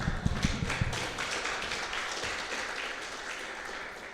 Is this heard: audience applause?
yes